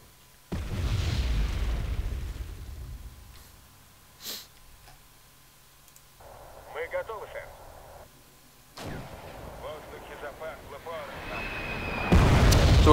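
Units shooting in the WEE strategy game produce a handful of separate booming shots and bursts, spaced several seconds apart, with someone talking between them.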